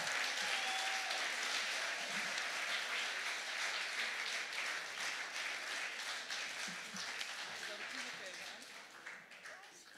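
Audience applauding for Anne van Dixhoorn at a live concert, a dense, steady wash of many hands clapping that fades slightly toward the end.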